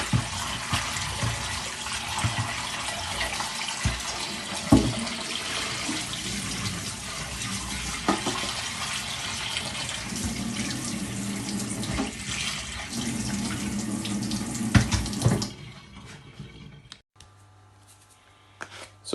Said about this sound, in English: in the sink, as you can see, I've got my king prawn there. I'm just going to get them all cleaned up.